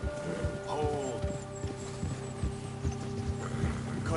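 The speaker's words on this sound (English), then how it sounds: "Get a hold of that horse, Arthur." Horse hooves clip-clop in an uneven rhythm with a brief whinny early on in Red Dead Redemption II, set under a steady ambient game soundscape, with a voice speaking over it.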